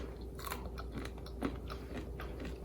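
Someone bites and chews crunchy homemade cashew brittle made with jaggery and salted cashews. Repeated close crunches and chewing snaps sound steadily throughout.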